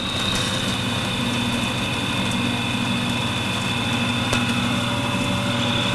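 A power saw cutting on a steam wagon build project runs steadily as a constant mechanical drone with a high whine and vibration, and a single faint tick sounds partway through.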